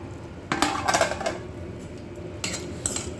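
A pasta and vegetable masala is being stirred in a cooking pan, with scraping and clinking of a utensil against the metal in a few close bursts and softer pan noise between them.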